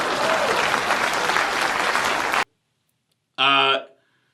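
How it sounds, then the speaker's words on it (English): Loud audience applause fills the first two and a half seconds, broad and continuous, then cuts to silence before a brief burst of voice near the end. "Please clap."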